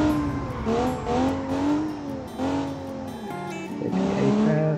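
Race car tyres squeal through a corner in the BeamNG driving game, long wavering screeches rising and falling over the engine note, loud and close with no talking.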